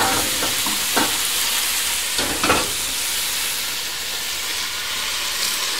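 Meat for a pot roast sizzling loudly in a pot as broth is poured in, a steady hissing fry throughout with a few brief stirring scrapes early on.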